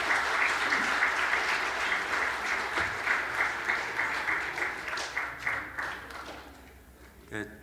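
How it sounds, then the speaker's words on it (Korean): A church congregation applauds during a Sunday service, with a sustained, dense wave of clapping that thins out toward the end, and a voice speaks briefly over it. "자, 내 식구 박수 한번 해주시기 바랍니다."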